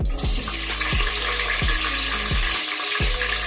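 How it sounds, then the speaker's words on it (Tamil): Onions frying in a pan while cooking coconut milk rice with chicken gravy, a steady loud sizzle and hiss with regular low thumps from stirring. "இப்போ ஆனியன் வெங்காயம் நல்லா வதக்கணும்"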